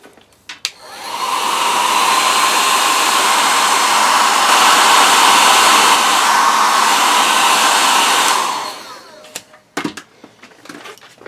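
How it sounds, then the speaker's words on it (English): A hairdryer blows steadily and loudly for about seven seconds, drying paint on a tiger stripe stencil, starting and stopping abruptly, with a few faint clicks and knocks before and after. "now we'll give it a quick dry with the hairdryer again"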